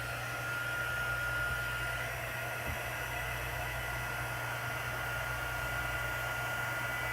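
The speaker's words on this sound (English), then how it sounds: "Then I took my heat gun." A heat gun blowing hot air to melt wax on a coffee-dyed journal page, a steady loud whooshing hiss held without break, close and alone.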